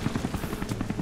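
Helicopter in the video game Rise of the Tomb Raider, a fast thudding rotor beat with a low engine drone, continuous and fairly loud across the whole stretch.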